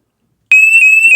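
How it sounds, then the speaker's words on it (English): After a brief silence, a SimpliSafe home security system panic alarm blares suddenly, a piercing steady high electronic tone sounding very loud and close. "Let me hit this panic button."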